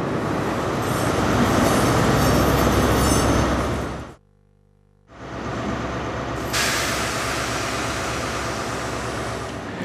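A passenger train on a journey between London and Plymouth rumbles along loudly and steadily with wheel noise and clatter, briefly dropping out to near silence midway before the dense roar resumes.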